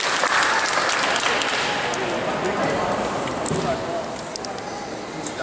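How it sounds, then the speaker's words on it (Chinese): A crowd at a temple gathering applauds, a dense, loud burst of clapping that fades slightly over several seconds, with voices mixed in. "鼓掌一下真丝物哦"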